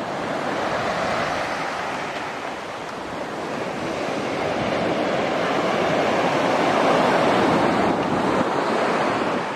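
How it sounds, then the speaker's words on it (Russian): Loud, steady roar of sea surf washing onto a sandy beach at Alanya, Turkey, with gusty wind noise on the microphone and no voices. "Море сегодня шумит, видите?"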